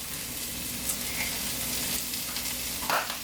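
Mushrooms fry in a pan while being seasoned with garlic and herb, giving a steady close sizzle with a few soft stirring clinks and scrapes.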